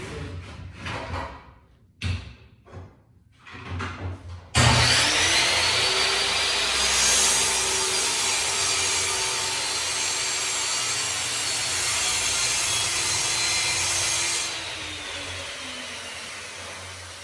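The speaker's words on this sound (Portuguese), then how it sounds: "Deixa eu fazer um cortezinho ali na serra de meia esquadria só para ficar diferente." Mitre saw fitted with a Freud 80-tooth blade cutting laminated MDF: a few short knocks and handling sounds, then the motor spins up and a loud, steady high whine and cut runs about ten seconds before winding down.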